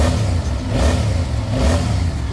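A 2023 Yamaha YZF-R7 motorcycle engine with its factory exhaust rumbles low and smooth, revving gently twice with a fairly mellow, unobtrusive exhaust note.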